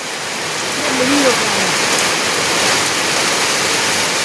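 Steady rain falling around a house, a dense even hiss of drops close by, with a brief faint voice-like sound early on.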